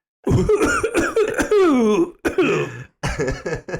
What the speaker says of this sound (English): Oh, it's an excitement cough.